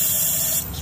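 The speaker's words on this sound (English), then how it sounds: "I'm using starter fluid on this one" Starter fluid hisses steadily from an aerosol can, sprayed close up into the engine of a 2007 GMC Yukon 5.3, a continuous broadband spray that thins slightly near the end.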